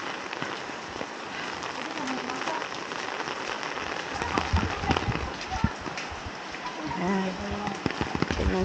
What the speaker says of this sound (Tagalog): We're on top of the mountains and it's raining heavily.